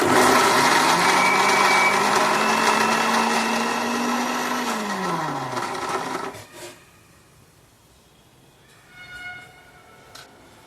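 A mixer grinder crushes beetroot pieces in its jar, a loud close whirring motor whine that shifts pitch for about six seconds, then cuts off, leaving faint clatter and a brief rattle of the jar.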